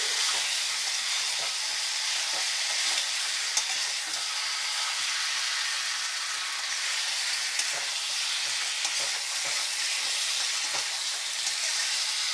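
Chicken and moong dal being sautéed together in a pan, a loud continuous sizzle with scattered scraping clicks as the spatula stirs, steady and close with no voices.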